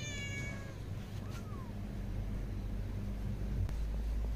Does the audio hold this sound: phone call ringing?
no